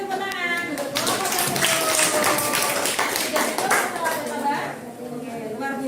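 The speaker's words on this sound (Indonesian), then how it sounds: "Beri tepuk tangan." In a classroom, a group gives a short burst of scattered hand clapping that is dense at first and then thins out, with voices chattering and talking underneath throughout.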